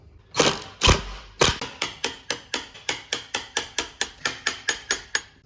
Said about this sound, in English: screw the door into the frame